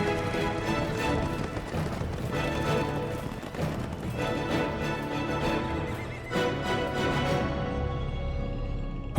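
Horses in a herd scene with hooves clip-clopping and whinnying over a continuous dense rumble, moderately loud and without voices.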